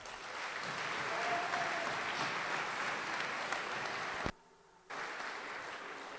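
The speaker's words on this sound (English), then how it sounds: "So let's give them a round of applause." Audience applause fills a closing ceremony for a quiz bowl competition, a dense steady roar of clapping that cuts off abruptly to near silence for about half a second before resuming.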